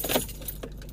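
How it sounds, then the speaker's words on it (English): Car keys jingle and clink inside a parked car, a quick close rattle lasting about a second. "Here are the keys"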